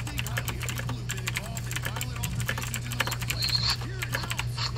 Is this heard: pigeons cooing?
no